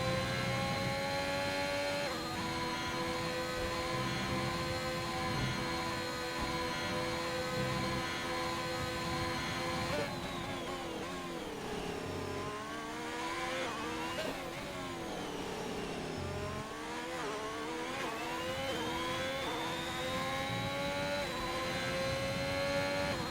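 Formula 1 racing car engines in an F1 video game drone loud and constant with a high squealing whine, pitch dropping and climbing through gear changes and braking as the cars race on.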